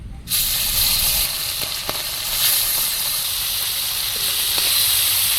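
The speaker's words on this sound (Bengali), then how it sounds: "এই মাছ কটাও ভেজে নিচ্ছি।" Fish sizzles in hot oil in a pan, a loud, close, continuous hissing fry that bursts in suddenly and holds steady with only faint clicks underneath.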